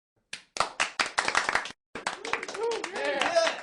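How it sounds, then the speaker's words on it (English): A small group gives a round of applause, with sharp, irregular claps close by, a brief gap and then denser clapping mixed with voices and laughter. "Everyone give her a round of applause."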